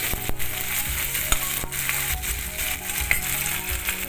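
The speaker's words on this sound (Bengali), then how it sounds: "সেই তেল আর ঘিয়ের মধ্যে আমি আলুগুলো দিয়ে দিলাম।" Potatoes frying in a mix of mustard oil and ghee in a kadai, a steady dense sizzle with a few sharp clicks and knocks, close and fairly loud with no talk.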